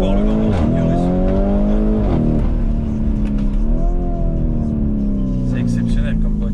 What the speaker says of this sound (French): Et je vais accélérer. Ça pousse très très fort le Lamborghini Urus.